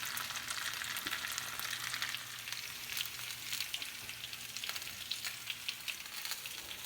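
Potatoes fry in a pan to golden crispness, producing a soft, continuous sizzle with scattered crackles and pops, close and alone without any talking.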